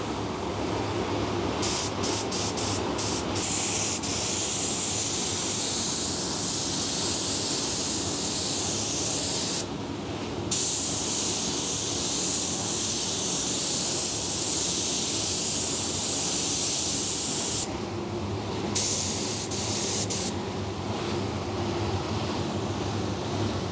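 Spray paint goes on as a first coat over a wrapped bike frame, producing a loud, steady aerosol hiss that runs almost continuously, with a few brief pauses and clicks between passes.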